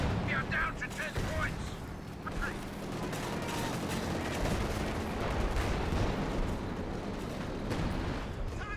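Stuka zu Fuss rocket artillery fires in a Company of Heroes match, a dense, continuous roar of launches and distant impacts with a commentator talking over it throughout.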